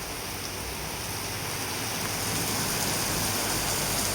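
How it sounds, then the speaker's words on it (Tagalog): Heavy rain pours down suddenly in Camarines Sur, a dense, loud, steady hiss of downpour striking surfaces with no letup across the whole stretch. "Biglang lakas ang ulan."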